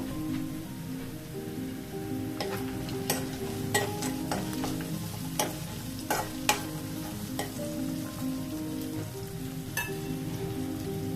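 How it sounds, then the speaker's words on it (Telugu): Peanuts and cashews frying in oil in a pan, a soft continuous sizzle with occasional stirring clinks and scrapes, fairly quiet and close, over a steady low hum. "ముందు పల్లీలు వేసుకుని ఫ్రై చేసుకోవాలి"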